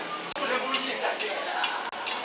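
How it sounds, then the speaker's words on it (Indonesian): Food fries and sizzles in a pan at a Jakarta street food stall serving Padang soto, a steady hiss broken by a couple of sharp utensil clinks and stirring. "Masih gorengnya oh, harus gak garing."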